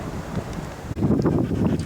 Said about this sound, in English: Sorry about the wind, I really need to get a proper setup.